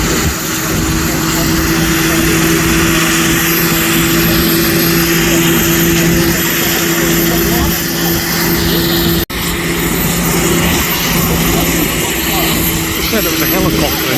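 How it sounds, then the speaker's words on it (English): Tractor-pulling vehicle powered by four helicopter jet engines at an outdoor pulling event in Brechin, Scotland, giving a loud, continuous turbine roar with a steady high whine, while nearby spectators talk over it. "They said it was a helicopter engine or something."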